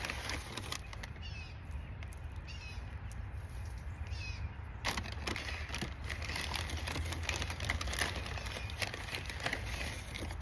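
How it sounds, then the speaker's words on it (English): Catbirds calling outdoors among other birds, with harsh, mewing, crow-like calls that repeat irregularly over steady background noise at moderate distance, with no talking. "Oh, there's catbirds here."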